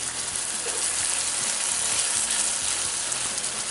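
Chef Boyardee pizza kit sauce simmering and frying in a pan, a steady close sizzle with a faint bubbling undertone and no talking.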